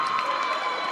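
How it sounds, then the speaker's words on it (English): Crowd at a 3x3 basketball semifinal keeps up a dense, steady wall of cheering and shouting for about a second, loud and close with no break. "Look at the crowd"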